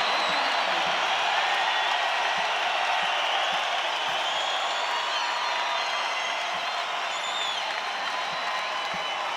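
A basketball arena crowd at a BYU versus Long Beach State game roars and cheers in a continuous, loud wash of noise with scattered whoops.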